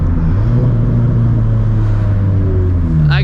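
A turbocharged project car accelerates away, its engine rising steadily in pitch as the revs climb. The engine note is loud, continuous and close, with no talking.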